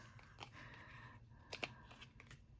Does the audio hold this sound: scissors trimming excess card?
yes